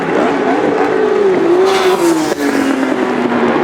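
A superbike race motorcycle streaks past at Sonoma racetrack, a loud, high engine whine rising and bending in pitch as it passes close by amid continuous crowd and track ambience.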